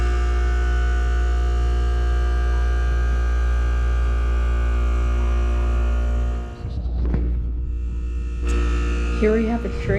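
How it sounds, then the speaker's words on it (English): A Trane heat pump at a middle school hums loudly and steadily while defrosting, then cuts off abruptly into a brief whoosh and quieter rumble before faint tones return. "Here we have a Trane heat pump that's apparently defrosting right now at my middle school"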